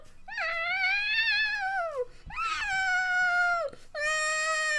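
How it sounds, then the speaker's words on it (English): A noisy cat meowing loudly up close, three long drawn-out wailing meows in a row with brief pauses between them. "He's a very noisy kitty."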